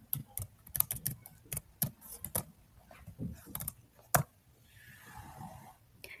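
Quiet clicks of code being typed on a computer keyboard come in irregular bursts with short pauses, ending in one sharper key strike before a soft fade.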